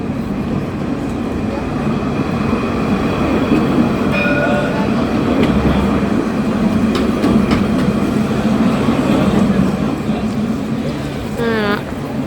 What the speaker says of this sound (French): le tramway de Tours